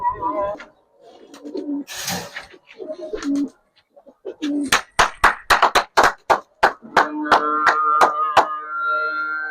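Giribaz pigeons coo at the loft in soft, low, rolling calls, then a quick run of sharp wing claps follows close by, with a steady cooing drone at the end.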